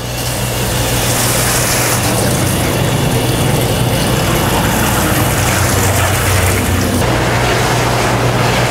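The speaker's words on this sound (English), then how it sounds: "And then we can start filling it again with our hot water." Hot water pours steadily into a whirlpool tub used for upper-extremity hot whirlpool therapy, a loud continuous rushing roar with a low pump-like hum underneath, sustained and close throughout.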